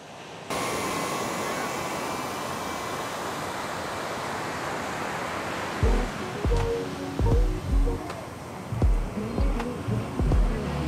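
A strong, steady wind roars across Kuta beach in Bali, buffeting the microphone with constant broadband rushing. A few brief thumps and a voice-like sound break through after about six seconds.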